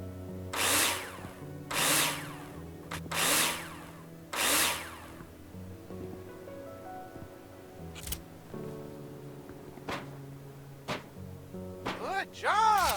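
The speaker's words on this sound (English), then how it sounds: "screw them in with a drill" A power drill whirs in four short bursts as it drives screws into framing in a building simulator game, then scattered clicks and tool sounds follow, with a brief buzzing whine at the end.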